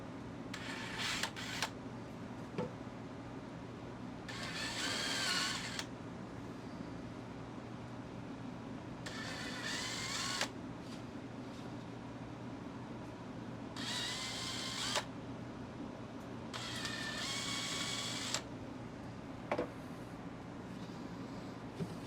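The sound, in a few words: drill pre-drilling and countersinking holes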